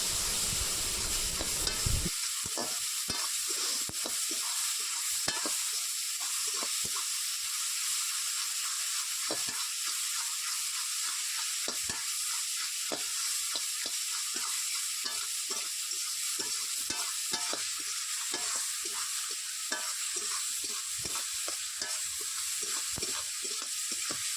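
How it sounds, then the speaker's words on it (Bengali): Dried river fish fry in a pan with turmeric and salt, a dense, constant sizzle and hiss running throughout, broken by frequent scraping stirs of a spatula, close and steady with no talk. "এগুলিকে এখন ভালো করে ভেজে নিতে হবে।"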